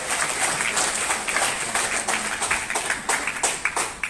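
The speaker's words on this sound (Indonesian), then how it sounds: "Berikan tepukan kepada anda semua." Audience applause at a public talk in Tawau: sustained clapping from a gathered crowd, moderately loud and even, with individual claps popping out near the end and no speech over it.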